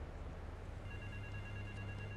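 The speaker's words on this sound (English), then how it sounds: "phone ringing there" A phone rings in Grand Theft Auto 3, a faint electronic trill sitting beneath a dense, steady wash of game music and noise through most of the short stretch.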